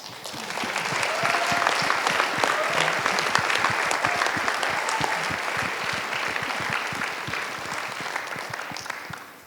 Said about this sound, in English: let's give it one last round of applause before we wrap up